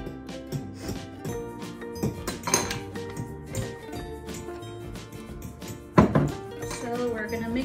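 Muffin batter for banana chocolate chip muffins stirred in a bowl, uneven clinks and scrapes of a utensil against the bowl with one loud knock, mixed with a voice in the background.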